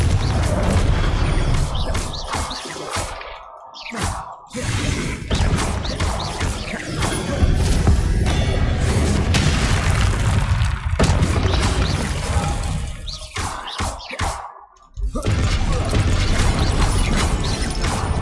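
Confringo blasting-spell explosions from Hogwarts Legacy combat, loud and continuous, with booming blasts, crashing impacts and mechanical clatter layered over dense game audio, and brief dips near four and fifteen seconds.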